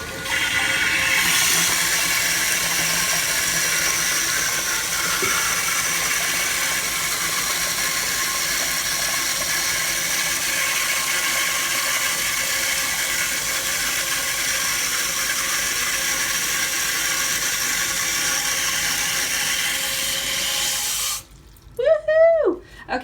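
Water rushes steadily into a Glacier Bay water-saving toilet tank after the supply is turned on, a loud continuous hiss and gush lasting about twenty seconds before cutting off, followed by a short burst of voice.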